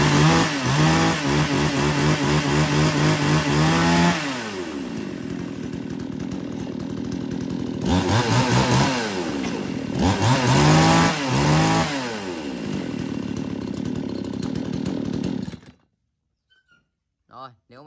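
A small chainsaw engine runs loudly nearby, revving up and down several times between steady idling, then cuts off into silence.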